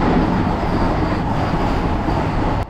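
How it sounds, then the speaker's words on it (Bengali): The Samudrakanya Express runs past Bankura Junction with a loud, dense rumble of wheels and carriages, close by and continuous throughout, with no voices. "তারপর একদম রাইট টাইমে ট্রেনটা ক্রস করে যাচ্ছে বাঁশকুড়া জাংশন।"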